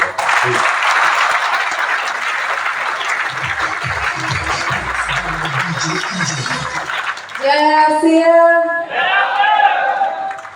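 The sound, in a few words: applause welcoming a speaker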